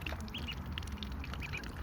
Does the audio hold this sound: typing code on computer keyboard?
no